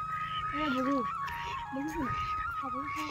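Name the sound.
ducks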